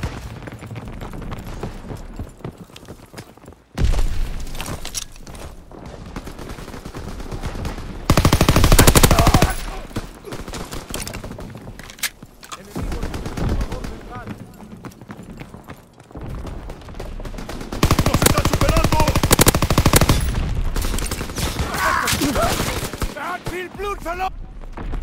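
Machine gun fire in a WW2 video game at a flak tower: repeated loud bursts of automatic fire alternating with quieter stretches, with shouted voices in the mix.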